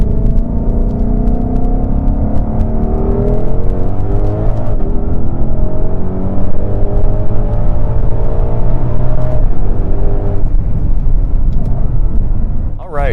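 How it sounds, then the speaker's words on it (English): A 2020 Ford Mustang Shelby GT500 pulls away hard, its engine note climbing steadily through the gears in a loud, continuous rising roar heard from inside the cabin with no break. "So taking off in the 2020 Shelby GT500"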